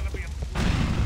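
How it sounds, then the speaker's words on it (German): A pipe bomb goes off in Grand Theft Auto IV, a sudden loud broadband blast that cuts in halfway through and roars on as a sustained rumbling explosion after a short stretch of game noise. "Wieder Rohrbombe."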